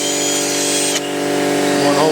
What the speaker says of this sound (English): To get the drilling, let's go.